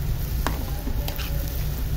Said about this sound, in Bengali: তো হলুদ মরিচ একটু ভাজা ভাজা হচ্ছে